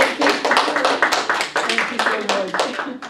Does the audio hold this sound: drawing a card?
no